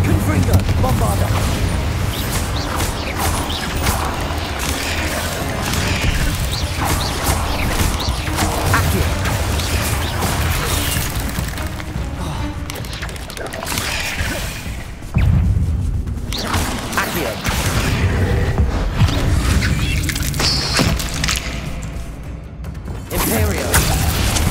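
Explosive spells Confringo and Bombarda blasting in Hogwarts Legacy, with dense booms and crashes layered over constant game music and combat noise, loud throughout with a brief dip in the middle.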